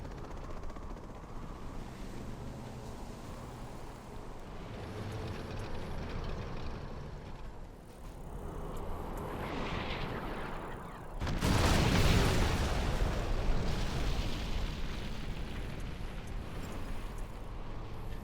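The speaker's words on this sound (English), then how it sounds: "Artillery coming in now." In a strategy video game, artillery shells strike a supply building: a sudden heavy, broadband crash and rumble erupts midway through a steady background wash of noise, then lingers as a dense roar.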